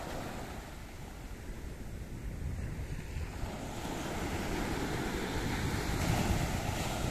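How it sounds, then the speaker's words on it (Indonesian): Ocean surf rolls onto a sunny beach, a broad continuous roar of breaking waves with wind buffeting the microphone, building louder toward the end with no voices. "wow ini mantap ombaknya"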